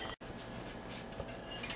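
A utensil stirs bread dough ingredients in a pan. The scraping and clinking run steadily with faint, regular scrapes after a brief gap near the start.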